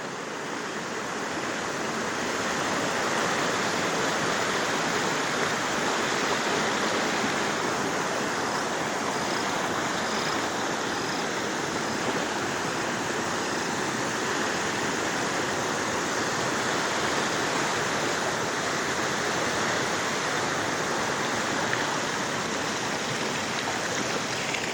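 Rushing water roars continuously and loudly, a broad steady flow like floodwater pouring past, with no voices.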